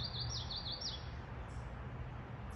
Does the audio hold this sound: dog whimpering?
no